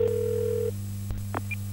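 A telephone tone on a hotline call, a steady electronic pitch that holds for about three quarters of a second over a low constant hum, followed by a click and a short high beep.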